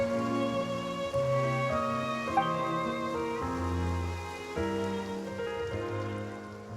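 In the video game Genshin Impact, a steady hiss of rain falls under sustained, prominent game music with held notes that change every second or so. There is no speech.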